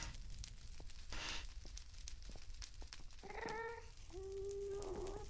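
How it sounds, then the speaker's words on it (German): A cat in the Minecraft modpack Agrarian Skies gives a couple of clear meows near the end, following scattered clicks and a brief rustling burst from the game. "Hier ist eine Katze, die durch die Gegend rennt."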